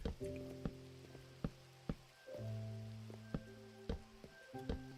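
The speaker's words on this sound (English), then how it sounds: "And it's raining." Rain falling in a Minecraft world, a faint patter under sparse game tones and soft clicks, quiet and continuous with no talk.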